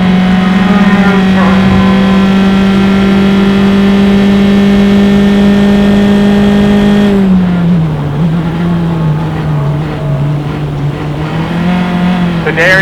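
SCCA club race car passing on the Mid-Ohio track, a loud sustained engine drone whose pitch drops as it goes by, with a commentator talking over it.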